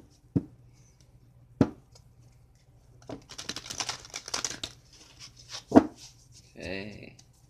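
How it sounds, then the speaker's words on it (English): Oracle cards are shuffled at a table: a few isolated taps, then a quick flurry of papery riffling, another tap, and a short vocal sound at the end. "One more shuffle."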